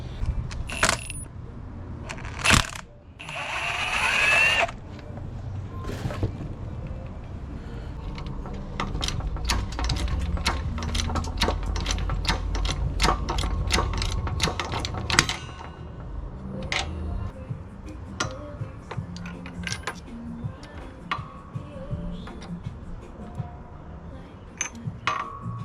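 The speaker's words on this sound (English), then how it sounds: "we're gonna slide all these gears out, and we're gonna replace just that second gear" Steel transmission gears from a Honda K-series gearbox slide off their shaft one after another, giving many sharp metallic clinks and clatters at close range over about twenty-five seconds, with a few brief ringing scrapes.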